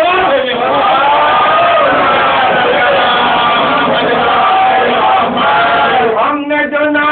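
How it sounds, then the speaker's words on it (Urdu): Large crowd at a Muharram majlis chanting the Nara-e-Haidari slogan together, loud and close, voices rising in a sustained shout that shifts in pitch near the end. "ہم نے جو نعرے حیدری لگایا"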